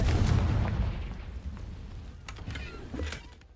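A Confringo blasting curse explosion in the Hogwarts Legacy video game booms loud and close at the start, then fades into a rumbling tail with a few smaller pops and cracks after it.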